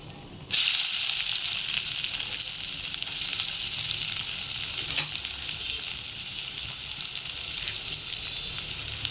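Chopped onion and curry leaves frying in hot oil in a pan, a steady close sizzle that begins abruptly and holds at an even level with a faint stir or clink partway through.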